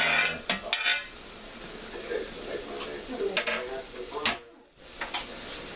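Food dropped into a pan of sauce sizzles, with bursts of hissing, scraping and pan clatter, and a person talking over it.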